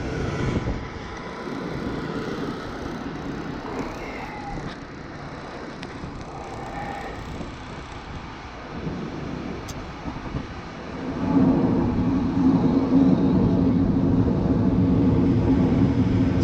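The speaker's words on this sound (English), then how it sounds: "Sounds like the blower is going." An oil burner's blower runs on a no-heat furnace whose burner keeps cutting out and failing to hold its flame, giving a steady, close mechanical roar that grows louder and fuller toward the end.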